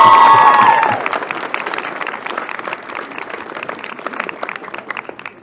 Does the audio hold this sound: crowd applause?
yes